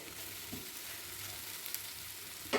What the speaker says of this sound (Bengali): তাই খুব সুন্দর করে কষিয়ে নিচ্ছি।